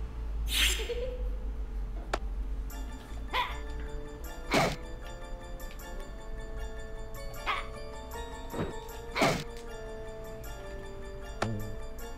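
A dog in the video game Tombi! 2 barks and yips in short bursts, roughly a half-dozen sharp calls spaced irregularly over game music, fairly loud and close.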